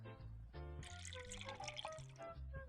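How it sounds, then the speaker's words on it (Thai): Water pours in a ramen-cooking video game, a bright continuous splashing and trickling that runs under a tonal game melody for about three seconds. "จากนั้นก็ทำการเติมน้ำนะครับ"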